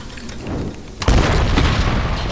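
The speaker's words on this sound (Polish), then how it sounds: "wszystko wybucha" A deep boom bursts out after a second of rumbling, then a loud roaring blast carries on, from an explosion in the video game Tomb Raider (2013).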